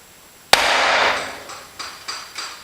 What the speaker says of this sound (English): Hold the die on there, give it a good whack.